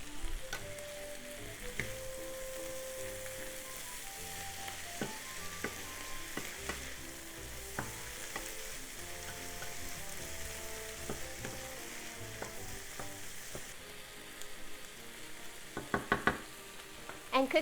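Corn kernels fry in butter and soy sauce over medium-high heat, a continuous quiet sizzle with occasional light taps of a spatula stirring the pan, growing busier near the end.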